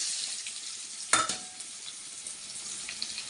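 Onion frying in a pan for a tamarind rice gojju, a steady faint sizzle with one brief louder burst partway through, no talking.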